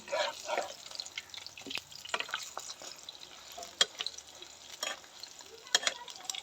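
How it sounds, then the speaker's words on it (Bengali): Bok flower fritters fry quietly in oil, with soft crackling sizzle broken by intermittent clicks and scrapes of stirring and turning, fairly faint and without speech. "লাল লাল করে আমি বড়াগুলো ভেজে নেব।"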